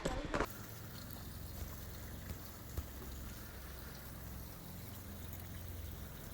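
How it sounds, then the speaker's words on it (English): Water runs at an icicle waterfall near a ski area, a faint, steady trickling hiss with a brief louder knock at the start and occasional soft taps. "Check out the icicle waterfall."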